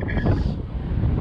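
Strong wind gusts of about 50 mph buffet the microphone while fishing, a rumbling, roaring noise, close and loud, with no voices.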